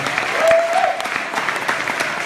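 An audience at a school board campaign event breaks into sustained applause for Edwin Lindo, a dense, even clatter of many hands.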